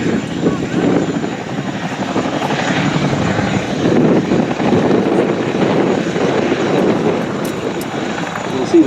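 An RAF Chinook helicopter landing on grass beside an airfield runway, a steady loud rotor and engine roar that holds at a constant level throughout without pause.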